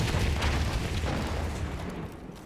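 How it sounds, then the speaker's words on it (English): Large explosions rumble in Battlefield 1 gameplay, deep booms and mortar-like blasts rolling together loudly before slowly fading. "There are some seriously large explosions going on."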